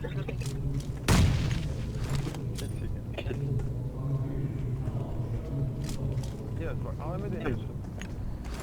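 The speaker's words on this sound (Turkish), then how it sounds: "Evet bomba attılar, bomba attılar." A single heavy grenade blast in PUBG Mobile, a loud, sharp boom early on that decays into a low rumble, with game engine hum and a player talking throughout.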